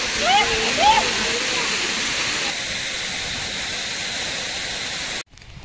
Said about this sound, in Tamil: நல்லா தண்ணி விழுது.